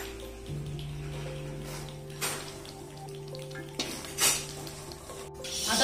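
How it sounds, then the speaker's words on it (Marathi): Green peas tipped into a pan of spiced masala for a bulk-quantity home cooking batch, giving a few soft stirring scrapes and pot clatters over a low steady hum, with no speech. "आता हे वाटाणे घालूया."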